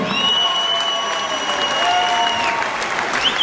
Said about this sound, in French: On peut l'applaudir, on peut l'applaudir, on peut l'applaudir.